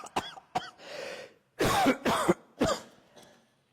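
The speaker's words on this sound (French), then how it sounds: "Laissez tousser, laissez partir." Several sharp coughs and throat-clearing bursts in a yoga breathing exercise, coming in uneven bursts with short pauses between them, fairly close and moderately loud.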